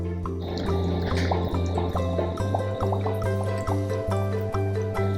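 Water pours out of a homemade aquarium filter pipe after being drawn through drilled holes, giving repeated gurgling splashes and drips in an uneven rhythm over a steady low pump hum, close by.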